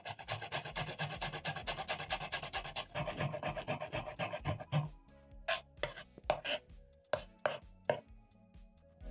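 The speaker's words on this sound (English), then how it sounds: "Using a hand grater or a box grater," Fresh ginger is rubbed across a hand or box grater in quick, continuous rasping strokes. The strokes then slow into separate scrapes, close and fairly quiet.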